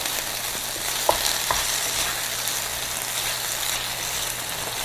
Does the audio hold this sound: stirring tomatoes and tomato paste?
yes